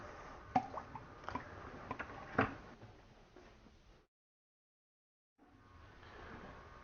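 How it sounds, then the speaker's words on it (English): Water drains and drips from a sump pump check valve, a few close, sharp drips and plops over a soft trickle, then a brief dropout before a low trickling resumes. "Drain the water from the top side of your check valve by pushing the flapper in the upward position."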